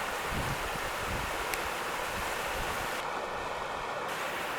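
A brook swollen by heavy rain, with a pipe spraying water into it, produces a constant close rushing wash of water that holds steady throughout without talk.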